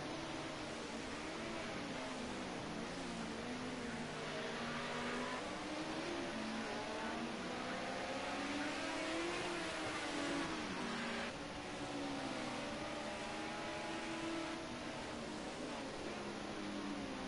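Group A race cars, an Audi and a Ford Sierra Cosworth, racing at Oulton Park: a steady, loud wash of engine roar with rising and falling revving pitch, sustained throughout with a brief dip near the middle.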